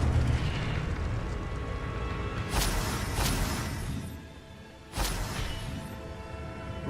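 An Incendio fire spell in the video game Hogwarts Legacy roars steadily, broken by two sharp, loud whooshing blasts, with a brief dip between them.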